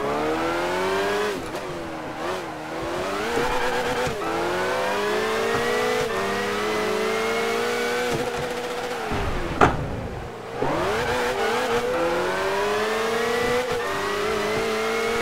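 Race car engines rev hard and change gear during a DTM race in Gran Turismo 5, with an Opel overtaking. The engines whine loud and continuous, with brief tire noise and no talk.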